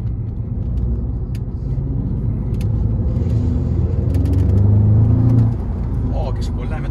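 An Audi S3 driving on the road gives a steady low engine rumble and tyre drone inside the cabin, swelling briefly as it accelerates, with someone talking over it.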